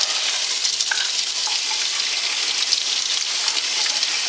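A protein skimmer part from a saltwater aquarium rinsed under running water, a steady close hiss of spray that stays even and unbroken throughout, with no voices.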